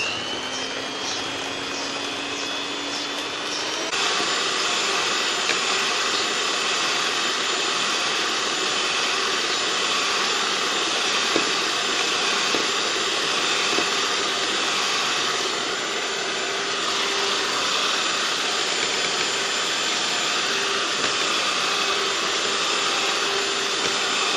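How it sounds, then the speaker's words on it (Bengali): An electric beater whips mango ice cream mix, starting with a lower motor whine that jumps after a few seconds to a loud, high-speed, steady whir that holds for the rest of the time. "প্রথমে একটু অল্প স্পিডে আমি বিট করব, তারপর আমি হাই স্পিডে বিট করব"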